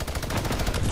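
A quick, loud burst of rapid gunshots in Fortnite, several shots packed densely together within a second.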